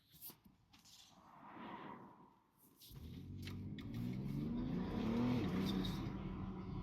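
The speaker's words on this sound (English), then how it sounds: "Just wait for this car to go." Car engine heard from inside a car as it pulls away, starting quiet with faint rustling, then swelling into a steady low rumble as the car accelerates, moderately loud and close.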